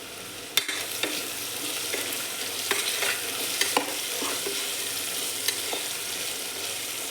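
Chopped green chillies fry in a pan for chicken curry, a steady bright sizzle broken by sharp spatula clacks and scraping stirs at uneven intervals, close by and without speech.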